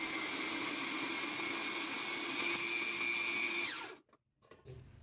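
An electric food chopper whirs steadily for nearly four seconds while blending ingredients for a fried snack, a close motor drone that winds down and cuts off, followed by brief soft clatter.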